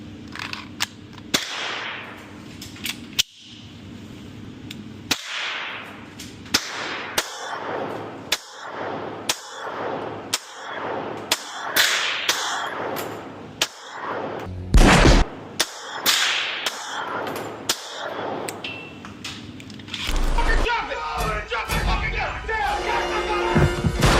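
An H&K MP5 submachine gun fires at a range, sharp loud single cracks spaced irregularly across the stretch, with some bursts and echoing reports, then denser clatter toward the end.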